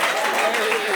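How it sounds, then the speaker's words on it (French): Audience applause at a comedy show, a brief, dense, even wash of many hands clapping at fairly loud level. "On l'applaudit pour elle, merci beaucoup."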